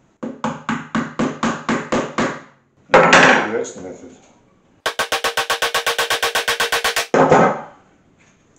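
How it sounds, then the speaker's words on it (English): Tack hammer driving tacks into a calf-skin banjo head, heard as two runs of quick, evenly spaced sharp taps, each followed by a louder ringing blow, close up with a brief spoken remark. "We started with the tack hammer."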